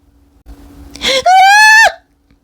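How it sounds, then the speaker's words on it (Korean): A sudden shrill scream cuts through a hushed moment in a Korean folk legend narration, a woman crying out in fright; one sustained, loud, rising cry about a second long after a brief breathy onset, then silence. "어디선가 외마대 비명 소리가 허공을 갈랐다"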